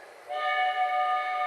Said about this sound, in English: The train is arriving at the station.